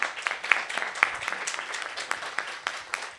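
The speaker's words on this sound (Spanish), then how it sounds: "les pido un aplauso para la maestra Silvia" Audience applause at a teachers' panel discussion on intercultural teaching experiences, a steady, moderately distant round of many hands clapping throughout.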